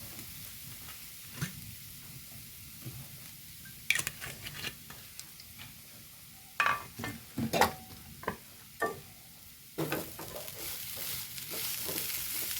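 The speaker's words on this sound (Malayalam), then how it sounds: "ഇളക്കി കൊടുക്കാം" Pumpkin leaf stir-fry tossed in a pan with a little coconut oil: a soft, quiet sizzle under a series of irregular scraping and clinking stirs, louder bursts near the end.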